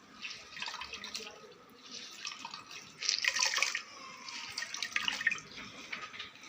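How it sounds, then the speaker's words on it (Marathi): Water trickles and drips softly as wet cooked tarota greens are wrung out by hand, close by, with a faint sink-like splash partway through. "ही अशी पिळून घ्यायची, याच्यातलं सगळं पाणी काढून घ्यायचं"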